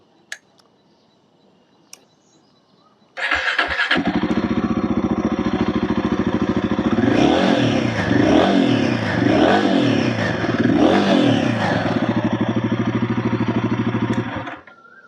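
A Royal Enfield Guerrilla 450 motorcycle engine starts abruptly and idles loudly, then revs up and down in several swells before cutting off near the end.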